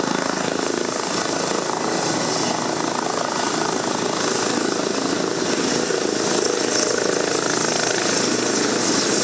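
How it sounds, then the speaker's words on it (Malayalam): An air ambulance helicopter descends onto the cricket ground of Thiruvananthapuram Medical College, its rotor and engine a loud, continuous roar that fills the scene throughout, with no voices standing out. "ഹൃദയം സ്വീകരിക്കുന്നതിന് വേണ്ടി ഹെലികോപ്റ്റർ തിരുവനന്തപുരം മെഡിക്കൽ കോളേജിലെ ക്രിക്കറ്റ് ഗ്രൗണ്ടിലേക്ക് ഇറങ്ങുകയാണ്"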